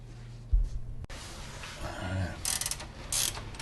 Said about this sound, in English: I am using a transmission jack to keep my muffler in place